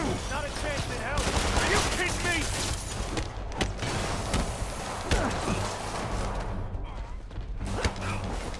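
Enemies with bigger guns in a Spider-Man video game fire dense, crackling volleys of gunfire in rapid clusters, layered with clanking action effects and a voice talking throughout.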